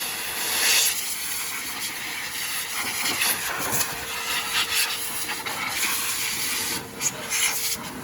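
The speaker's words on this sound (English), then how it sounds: "Now I like to use a vacuum and just blow off all excess water" Shop vacuum set to blow, pushing air to clear leftover tap water from a Toyota Corolla radiator during a coolant flush: a steady close rushing hiss with spluttering, gurgling bursts, running continuously without speech.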